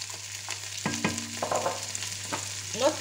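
Onion fries in a pan for a venison leg in sauce while a utensil stirs and scrapes it, giving a soft, close sizzle with several distinct stirring knocks and scrapes, no talking.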